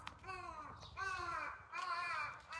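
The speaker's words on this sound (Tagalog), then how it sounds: "Meron pang uwak." A crow caws three times close by in an outdoor garden, each call a harsh, drawn-out croak separated by brief pauses.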